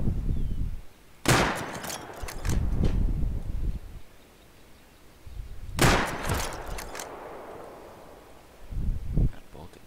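Two sharp, loud sniper rifle shots crack out several seconds apart in the survival game Rust, each trailing a short echo, with speech and rustling gameplay noise around them.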